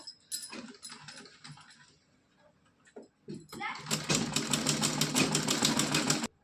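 A sewing machine stitches a cotton dress for a Laddu Gopal idol, starting with a few short bursts between soft handling noises and then running steadily and loudly for the last couple of seconds.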